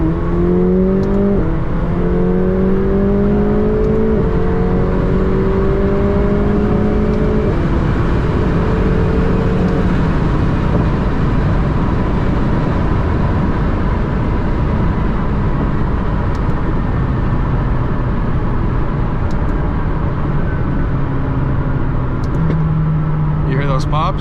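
A McLaren in sport mode downshifts and revs, its engine droning steadily with stepped pitch changes from the gear changes. Someone talks over it throughout, and the exhaust pops are not clearly picked out.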